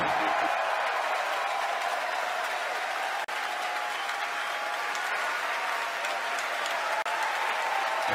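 SpaceX employees cheer and applaud during a Falcon Heavy launch, a continuous, roaring crowd of whoops and clapping behind a mission control voice.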